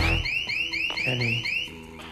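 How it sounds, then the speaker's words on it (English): An electronic burglar alarm sounds during a heist in a film, a rapid series of rising chirping whoops repeating about six times, loud and steady with no talk. "there's an alarm. I need you to respond appropriately."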